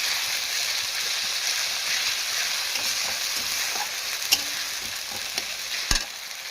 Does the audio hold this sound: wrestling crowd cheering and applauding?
no